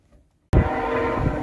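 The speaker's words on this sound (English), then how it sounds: "Yes, there's the train." A train rumbles past nearby, a sudden loud onset after near silence, then a steady roar of rail cars continuing to the end.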